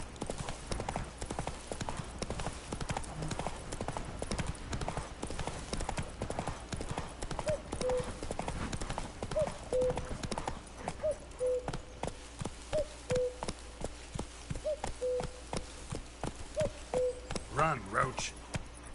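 Geralt's horse Roach galloping in The Witcher 3, a fast steady drum of hoofbeats throughout, close and even, with faint owl-like hoots in the background and no talking over it.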